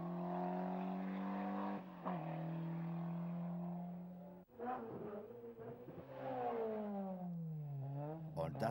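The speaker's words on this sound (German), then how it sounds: "Er hat Mühe, sein Triebwerk auf Drehzahl zu halten." Engine of a 1991 Valais rally car holding a steady drone, then dipping and recovering as it strains to keep its revs, with a commentator talking over it throughout.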